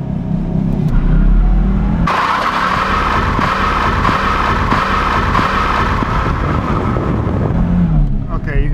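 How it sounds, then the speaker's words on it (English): A car doing a burnout, its engine roaring at steady high revs with sustained tire noise for several seconds, loud and near, after a rumbling idle, with people talking over it. "we're gonna watch your dad do a burnout"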